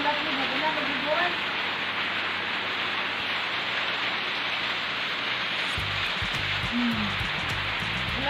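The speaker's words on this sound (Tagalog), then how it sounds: "Ulan kaayo" Heavy rain pours steadily as a loud, continuous wash of noise, close and unbroken, with faint voices and a low rumble under it.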